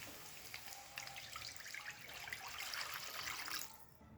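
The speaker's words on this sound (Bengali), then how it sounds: "এবার এর মধ্যে আধা লিটার পরিমাণ জল দিয়ে দেব" Half a litre of water pours into a cooking pot of rohu fish curry with new potatoes, a quiet steady splashing trickle for about three and a half seconds before cutting off.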